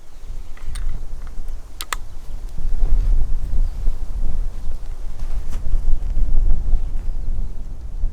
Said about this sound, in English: the wind is really starting to pick up now